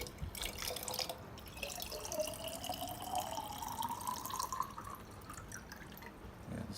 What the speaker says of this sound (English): I will take this to 400 ml water in this jar